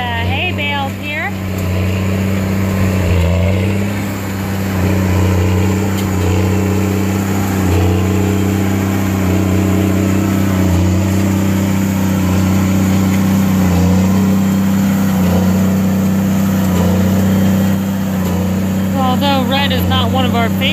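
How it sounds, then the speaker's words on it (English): An Ace tractor pulls a New Holland baler through rows of hay on a sunny farm day, its engine droning loud and steady throughout, with a voice talking over the constant rumble. "This Ace tractor and New Holland baler are just flying through these rows, eating them up."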